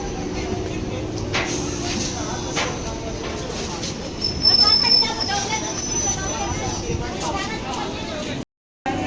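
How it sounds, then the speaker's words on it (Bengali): A train rumbles along platform four at Joynagar station in West Bengal, India, with a steady low drone and brief high metallic squeals, while people talk nearby. "চার নম্বরের ট্রেনটা ছেড়ে দিচ্ছে"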